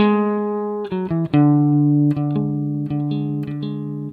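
A scale in the Lydian mode is played on what sounds like a keyboard or guitar, as a run of clear, separate notes that step along evenly and ring close and loud without any voice.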